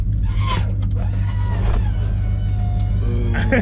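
Classic 1969 Ford Torino GT with a 351 engine cruising along, its deep steady engine rumble close and constant as people chat inside the car.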